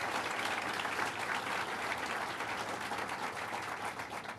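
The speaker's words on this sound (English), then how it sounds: "Let's give him a big round of applause" An audience at a State of the State address in Watertown claps for Mayor Graham, a dense and fairly distant round of applause that holds steady for several seconds.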